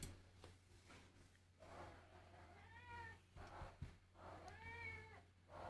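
Pet cats meow in the background of a quiet room, a few drawn-out, rising calls spaced several seconds apart, soft and somewhat distant over a low steady hum.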